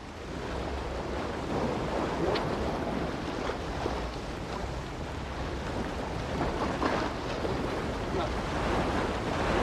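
Strong wind and surf pound a coastline where someone is surf casting, making a dense, constant roar of breaking waves and gusts that buffet the microphone.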